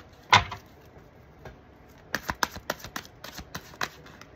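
Tarot cards being shuffled by hand to draw another card, a sharp snap at the start followed by a run of quick crisp riffling flicks, close and fairly loud with no talk.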